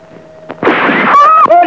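A single loud gunshot bursts out in a Hindi action film scene from 1998, a sharp crack followed by a sustained blast and ringing tones as a voice cries out over the tail.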